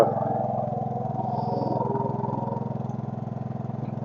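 A Case 224 garden tractor engine drives a hydraulic wood splitter, idling in a steady, loud, close chug with a throbbing low pulse and no talk.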